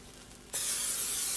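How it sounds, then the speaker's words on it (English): After a quiet moment, a steady aerosol cooking spray hisses loudly and continuously, close by, over pancakes. "Yes, I spray this top because it has berries in it."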